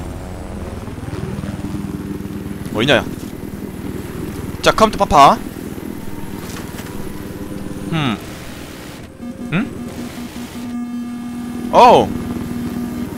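Helicopter in the Battlefield 4 video game, a steady engine drone and rotor hum running throughout beneath frequent excited talk, with occasional sharper bursts of in-game noise.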